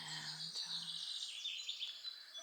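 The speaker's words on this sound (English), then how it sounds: "Birds are chanting." Birds singing beside a calm lake in Landes, France, with high chirps and trills drifting in the distance over a faint low hum, soft and brief.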